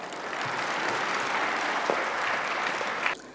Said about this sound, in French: Vos acclamations.